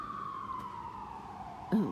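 A siren wails steadily with a slowly falling tone, fairly distant, ending with a brief louder burst of noise.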